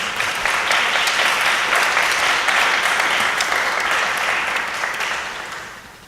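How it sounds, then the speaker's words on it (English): A celebration-of-life show audience gives a big round of applause for performer Tom Kersey. It is a full, loud wash of clapping hands that stays steady, then tapers off near the end. "let's give him a big round of applause"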